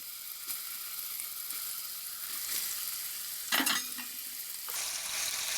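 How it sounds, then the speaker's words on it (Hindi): Soya chunks fry gently in a pan with golden-browned onions, giving a low, even sizzle throughout, broken once midway by a short clatter of utensil against the pan; close, quiet and without speech. "अब हम इसको धीरे धीरे फ्राई करेंगे"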